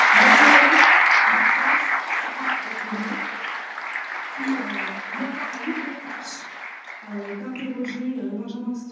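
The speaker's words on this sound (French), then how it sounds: "je vous demande d'applaudir." Steady crowd applause at a conference, loud at first and gradually thinning, with voices talking over the clapping toward the end.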